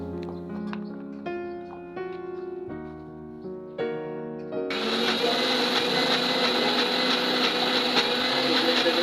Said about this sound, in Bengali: তারপর এগুলোকে আসলে কুচি কুচি করে কাটবো, যাতে ব্লেন্ড করতে সুবিধা হয় এবং ব্লেন্ডটা খুব সুন্দরভাবে মসৃণভাবে হয়